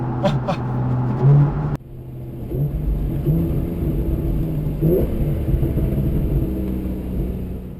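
A 2013 Porsche 911 (991) Carrera 4/4S with a manual gearbox revs up loudly from inside the cabin, then its engine note abruptly drops away and settles into a steady rumbling drive.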